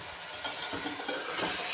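Potatoes and tomatoes go into a pan of hot masala, giving a steady close sizzle with soft stirring scrapes and small bursts of crackle throughout, no voices.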